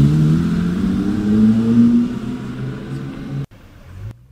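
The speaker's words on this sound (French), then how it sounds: "Arrive maintenant une Ferrari 250 GT Berlinetta des années 60." A 1960s Ferrari 250 GT Berlinetta at a classic car rally, its engine droning and revving close by with a rising pitch, then cutting away abruptly near the end.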